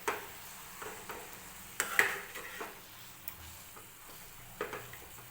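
Spoon stirring garlic and fenugreek leaf curry (lasuni methi) in a pan after a little water is added, giving soft scrapes and clicks with light sizzling, fairly quiet, with no talk.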